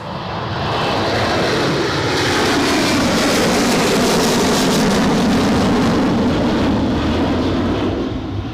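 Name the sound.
plane taking off or landing at Newcastle Airport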